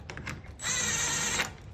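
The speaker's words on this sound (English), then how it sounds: "for that, I'm gonna be using a self-center bit" A power drill fitted with a self-centering bit bores a screw hole during door frame and door slab millwork installation, giving one steady, close whirring burst of just under a second between quieter stretches.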